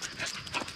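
Dog panting with soft whimpers, a brief breathy close sound with a few rising whines and no talk.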